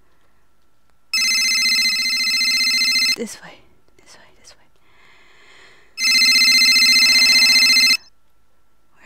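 A telephone rings loudly in an abandoned building in a horror video game, two long bursts of steady electronic ringing separated by a pause with footsteps and a brief whispered voice.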